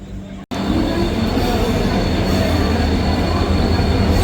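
A train pulls into a station at night: a sudden loud, steady rush of rolling wagons with squealing wheels and rail clatter fills the whole stretch, close and continuous after a brief cut at the start.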